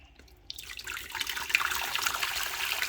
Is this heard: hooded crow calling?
no